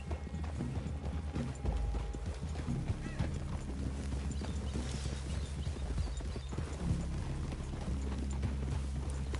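Several horses walk on open ground near a clearing, their hooves making a steady, continuous clip-clop at moderate distance, with a faint neigh and low rumbling background.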